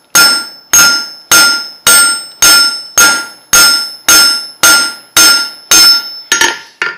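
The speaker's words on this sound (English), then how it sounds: "hit it flat with the flat of the hammer." Eleven sharp, ringing hammer blows strike half-inch round steel stock on an anvil, evenly spaced about every half second and loud and close, each ring decaying before the next, with the last few coming quicker.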